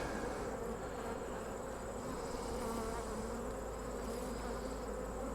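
Honeybees in an open hive during early fall, a dense, steady buzzing hum that holds close and even throughout with no pauses.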